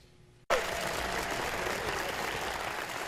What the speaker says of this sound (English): Kim Stevens now knows what it's like to be cheered for at the Henderson Center.